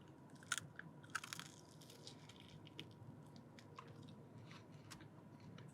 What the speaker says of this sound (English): I'm excited to hear that crunch too